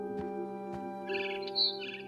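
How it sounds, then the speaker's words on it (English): A barn swallow chirps outside a window in a game scene, giving a few short high calls over a steady low tonal hum. "I heard chirping outside my window. It was a barn swallow going back to her nest."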